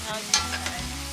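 Steady frying crackle and sizzle of sausages and bacon in a hot pan outdoors at a campsite, with a couple of short scraping stirs near the start.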